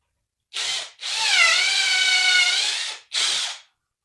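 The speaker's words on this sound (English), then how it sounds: "Let's go up there and drill the hole." A power drill bores a hole into a home ceiling while a faux beam is installed, a close, loud high whine in three bursts, a short one, a long steady run of about two seconds, then a brief final burst.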